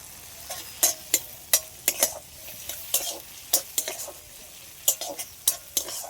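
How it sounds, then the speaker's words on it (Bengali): Chopped onion and capsicum fry in a pan while being stirred: a steady soft sizzle broken by a dozen or so sharp, irregular scrapes and clacks of the spatula, close and clear. "পেঁয়াজটা একটু হালকা নেড়ে ছেড়ে এবার দিয়ে দিচ্ছি ক্যাপসিকাম"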